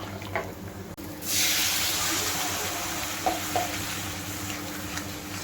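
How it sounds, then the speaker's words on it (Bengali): Spice paste sautéing and being stirred in a pan, a loud steady sizzle that jumps up after a quiet second and holds, with a few soft scrapes of the spoon, no talking. "চলো, মশলাটা কষানো হচ্ছে।"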